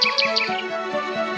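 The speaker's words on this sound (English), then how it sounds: "getting ready to the tunes of chirping birds." Small birds chirp in quick repeated tweets, clear and close, over a soft steady musical background in a residential setting.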